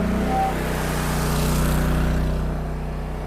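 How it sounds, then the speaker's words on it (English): Log conveyor motor on a log lift throttling up, a steady loud mechanical engine drone with low rumble that rises slightly and holds, heard alone without talk. "Throttle up the motor."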